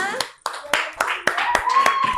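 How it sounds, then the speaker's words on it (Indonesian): A classroom of children claps for a presenting group in a few loud, sharp, rhythmic claps up close, with young voices talking and calling out between the beats. "Tepuk tangan untuk kelompok 5."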